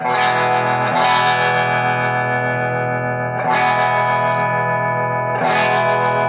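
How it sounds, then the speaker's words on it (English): A sustained, distorted electric guitar chord through a 1963 Airline 62-9017a amp wavers with a pulsing tremolo bouncing between speakers, restruck about every two seconds and ringing loud and steady between strums. "it sounds like the tremolos are bouncing back and forth from the speakers"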